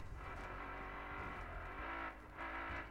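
Car driving in the Battlefield Hardline beta, a steady engine hum under faint continuous noise, quiet and somewhat distant with small dips in level, no talk.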